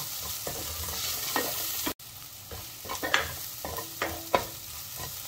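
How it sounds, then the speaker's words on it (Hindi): Brinjal (eggplant) pieces fry briefly in a pan for a spicy soybean curry, a steady close sizzle broken by repeated scraping stirs of a spatula, with one abrupt cut partway through. "अभी इसको बस कुछ सेकेंड के लिए ही हम फ्राई करेंगे"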